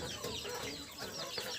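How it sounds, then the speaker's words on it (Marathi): Free-range chickens, including a pure Berad fighter rooster, clucking on a farm, soft scattered clucks and calls heard at a distance, quiet and continuous. "दिवसभर माझ्या कोंबड्या पक्षी पूर्ण हे शेतातच मुक्तपणे"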